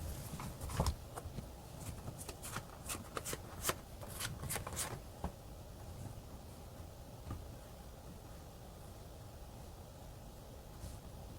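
Tarot cards are shuffled close by, a quick burst of crisp riffling snaps during the first five seconds, then fading to a soft faint hiss of room noise.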